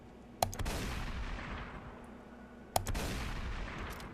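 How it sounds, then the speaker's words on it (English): Two deep, resonant blasts from the Widow mod's double-barrel shotgun in Fallout 4, each a sharp crack at about 0.4 s and 2.8 s followed by a long booming decay that fills the gap; loud and close, with no talking. "I love the sound effect that the mod author gave it, because if you listen to it, it's a lot deeper, a lot more resonant than the vanilla shotgun"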